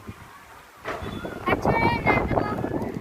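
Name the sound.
strong cool wind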